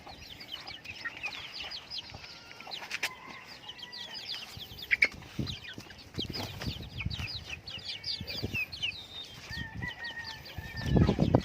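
Native chickens clucking and chattering around a yard, many overlapping short calls in irregular bursts, close by, with scattered footsteps and rustling and a louder thump near the end.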